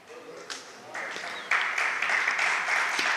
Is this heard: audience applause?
yes